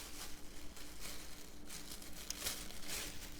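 A plastic bag, cut open to line a car trash bin, crinkles and rustles in irregular bursts as hands pull it wide and spread it out, close up and steady throughout.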